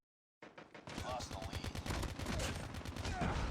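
Rapid gunfire from the Call of Duty Mobile video game, dense overlapping bursts of automatic shots that start abruptly and keep up loudly and continuously throughout, with no talking.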